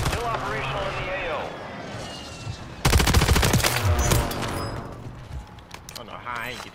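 Rapid automatic gunfire rattles loudly in the video game Warzone, a sustained burst of closely spaced shots in the middle of the clip, with voices talking over the action before and after.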